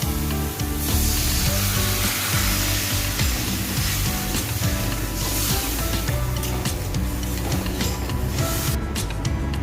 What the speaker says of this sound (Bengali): আমাদের মশলাটা ভাজানো হয়ে গেছে এবার এর মধ্যে আমি পরিমাণ মতো জল দিয়ে